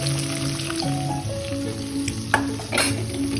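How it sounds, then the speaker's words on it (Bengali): Aar fish frying in mustard oil in a kadai sizzles steadily up close, with scraping stirs and a couple of sharp clinks near the end. "দেখুন আমি কড়াইতে মাছ দিয়ে দিয়েছি।"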